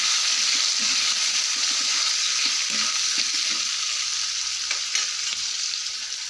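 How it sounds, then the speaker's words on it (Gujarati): Tomatoes are stirred into masala frying in a pan, a loud, steady hiss of sizzling with soft, irregular stirring knocks, close and without talk. "હવે આમાં ટામેટાં નાખીશું. મિક્સ કરીશું."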